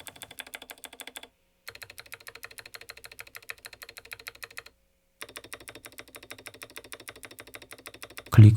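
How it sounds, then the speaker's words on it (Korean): Mechanical keyboard with click switches typed in quick, even bursts of sharp, close clicky keystrokes, separated by two short silent pauses, ending in a louder thump. "클릭바와 자켓 타입의 사이에 있는 클릭음 소리를 들려주네요."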